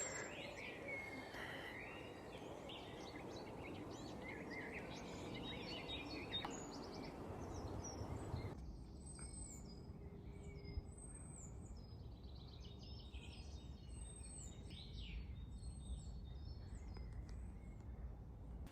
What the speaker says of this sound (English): can't get over how loud the birdsong is this morning.